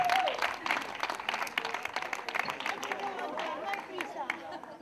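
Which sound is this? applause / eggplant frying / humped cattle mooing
applause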